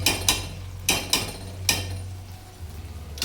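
A spoon stirs fish curry in a metal pot, with a handful of sharp clinks and scrapes against the vessel in an uneven rhythm, close by.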